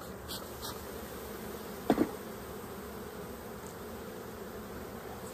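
Honey bees drone steadily from an open hive with comb of red pollen and nectar, a continuous close buzzing that fills the whole stretch, with a brief soft knock near the middle.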